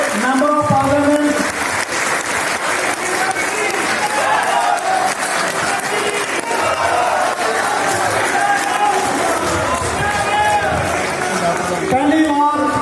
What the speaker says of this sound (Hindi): उनका तालियों के साथ स्वागत